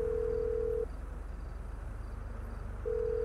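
Phone call ringing out to the driver in GTA 5: a steady electronic ring tone sounds, breaks into a pause of about two seconds, then starts again, over a constant low game hum.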